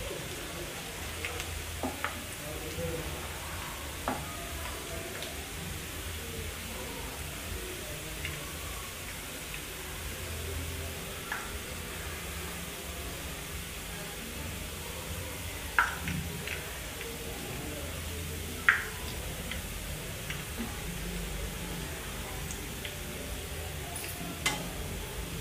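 Chicken leg pieces fry in hot oil for biryani with a soft, steady sizzle and scattered faint pops and clicks, while occasional bird coos sound quietly in the background.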